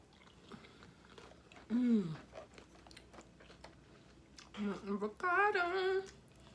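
Close crunchy bites and chewing of Del Taco fast food, a few distinct crunch bursts with quiet mouth sounds between, and a voice briefly murmuring nearby.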